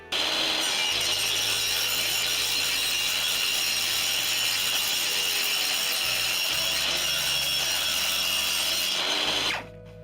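A power saw trims sheets for gussets in a workshop, one long continuous whining cut through the material lasting about nine seconds before it winds down, close and steady with no voices.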